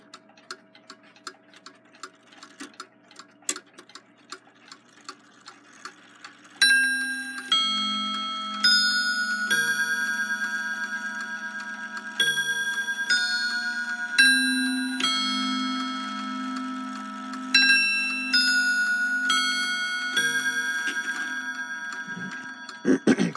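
A Waterbury triple-decker chiming clock with a count-wheel movement and its original spring ticks steadily, then rings a long sequence of bright, resonant chime notes over the continuing tick, close and loud with no talking.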